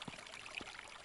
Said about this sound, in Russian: Узнаете ручеечек?